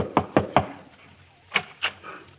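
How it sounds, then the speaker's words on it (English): A door knock effect from a 1943 Christmas radio comedy drama: three firm raps in quick succession, a pause, then two or three softer knocks, heard alone without speech. "He just hung up his hat when there was a knock at the door."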